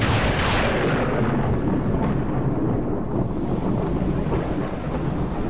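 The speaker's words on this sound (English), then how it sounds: "Across the cosmos, I bring with me the storm." A loud thunderstorm: a heavy crack of thunder rolls into a sustained rumble, with broadband rain-like hiss continuing throughout and no voices.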